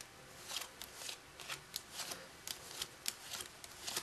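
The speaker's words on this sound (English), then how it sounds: "now you deal through the cards face up" Playing cards dealt face up one after another, each soft papery snap landing in an irregular rhythm of about a dozen quiet flicks, close and alone with no talk.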